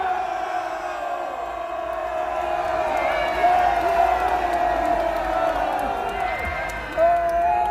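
A rally crowd protesting against Trump's demand for higher US troop defence costs shouts and cheers in a sustained roar, rising in bursts, with voices calling out over it.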